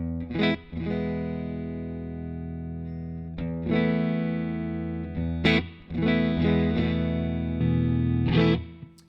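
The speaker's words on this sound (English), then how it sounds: "this is my favorite preset I've made so far. This is a super reverb." Electric guitar played through a Super Reverb amp preset on a Line 6 Stadium XL, with sustained chords and short picked bursts ringing under heavy reverb and a slight distorted edge, loud and close, with no talking.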